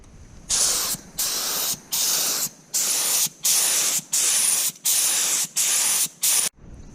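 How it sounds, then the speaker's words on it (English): An air sprayer spraying teal paint on a school bus hisses in short repeated bursts of about half a second each, roughly ten in a row, close and loud with brief pauses between. "Now that orange is masked off, I can spray the teal and we'll be done."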